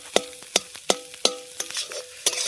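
An egg fries in a pan over a forest cooking fire, with a spatula scraping and tapping in sharp, regular strokes about every third of a second over a soft sizzle, close-up and with no talking.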